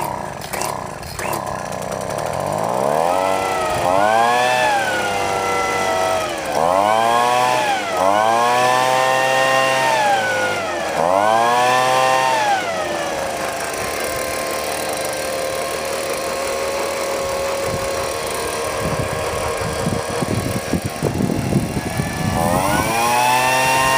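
Sears/Poulan gas leaf blower with its two-stroke engine revving up and down in repeated swells, then holding a steady loud high-speed roar, close by.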